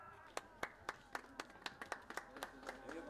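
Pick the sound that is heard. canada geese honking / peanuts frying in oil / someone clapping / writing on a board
someone clapping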